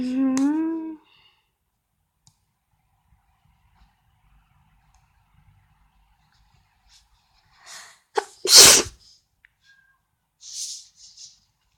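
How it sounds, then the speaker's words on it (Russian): A woman gives a single sharp, loud sneeze close by after a long stretch of near silence. A short high voiced sound comes at the start, with faint rustles and quieter noises afterward. "Я чихнула не вовремя."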